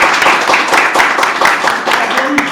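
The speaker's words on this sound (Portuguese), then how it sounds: "por favor, uma salva de palmas para o nosso irmão" A small audience at a cultural talk claps for the speaker, a close, loud patter of hands with individual sharp claps standing out, mixed with a few voices.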